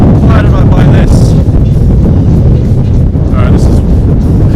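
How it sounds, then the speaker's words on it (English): Strong wind buffets the microphone outdoors, a loud continuous low roar and rumble that fills the whole clip, with faint voice-like fragments barely surfacing through the gusts. "It's so windy."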